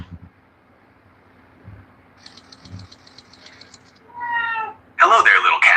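A pet cat lets out a couple of short meows near the end after quiet room noise and light rattling. The last meow is loud and close and overlaps a louder burst.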